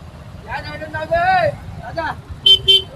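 Two short vehicle horn honks sound close by in a traffic jam on the old Mumbai–Nashik Agra road at Bhiwandi, following someone speaking over steady engine rumble.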